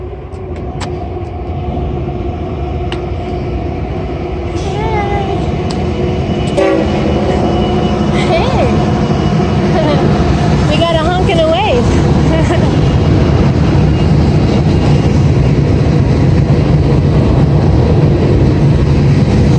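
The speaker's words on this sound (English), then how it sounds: "Sounds like there's a train coming." A train rumbles steadily along the rails near the Appalachian Trail, a low continuous roar building and holding, with occasional squeals and people talking briefly underneath.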